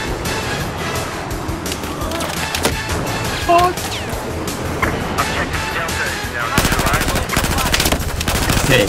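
Machine gun bursts in a video game played with UK forces, rapid rattling volleys repeating throughout with a dense sustained stretch near the end, mixed with engine rumble and voices talking over the action.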